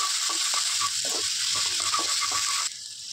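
Chopped ginger, garlic and chilli fry in hot oil with a bright continuous sizzle, and a spoon scrapes and knocks in the pan in a quick series of stirring strokes before the hiss drops away.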